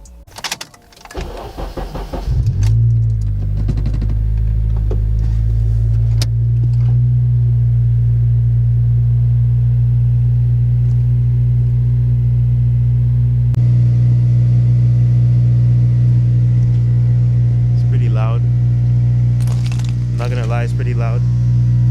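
A Honda Civic Si engine cold-starts on a freezing winter day: a short cranking burst, then a loud, steady idle with a strong low drone that holds throughout, with a few faint chirps over it late on.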